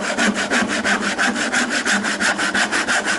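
A hand saw cuts through wood, removing the middle section of a T halving joint, in steady rhythmic strokes of about four per second, loud and close with no talk.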